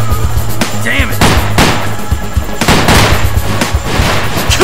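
Gunfire in the zombie shooter Zombie Panic Source cracks out as several loud, separate shots at irregular intervals over a steady low hum, with a brief voice in between.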